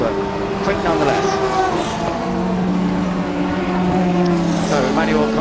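A racing car circles the track during qualifying at The Classic 2021 Masters Endurance Legends, its engine note rising and falling as it passes, loud under a commentator's steady talk.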